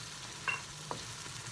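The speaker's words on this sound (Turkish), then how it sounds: "Tereyağı yüzeye çıkıncaya kadar karıştırıyoruz." Cheese and butter sizzle gently in a pan while a utensil stirs them, giving a brief, faint scrape or two over a steady low frying hiss.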